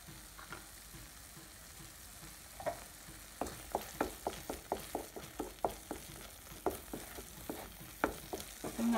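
A spoon stirs a thick papaya ladoo mixture with ghee in a pan, giving a rhythmic run of close scraping knocks that grows busier and steadier, with no talk.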